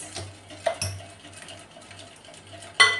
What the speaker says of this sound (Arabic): غادي نزيدو 6 المعالق ديال الزيت